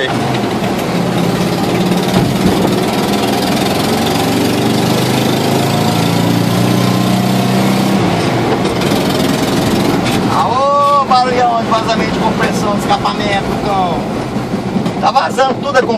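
A 1966 Volkswagen Beetle 1200 air-cooled engine idles up close with a leaky exhaust, a loud, steady, rough drone throughout, with brief voices heard over it near the end.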